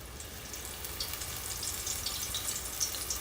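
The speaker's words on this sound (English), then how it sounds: "So these only fry for about 1 to 2 minutes." Thin slices fry in hot oil at 350 degrees, producing a continuous, fairly quiet bubbling sizzle with fine crackles and no voices.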